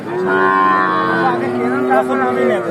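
A young heifer at a livestock market lets out a long, loud, drawn-out moo close by, holding the low call for a couple of seconds.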